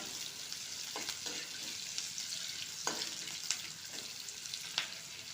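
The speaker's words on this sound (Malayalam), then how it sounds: "അപ്പോൾ ഉള്ളി ചെറുതായി ഒന്ന് വഴറ്റുക." Sliced onions sauté in oil in a pan, a soft continuous sizzle broken by occasional stirring scrapes and clicks, fairly quiet and close with no talking.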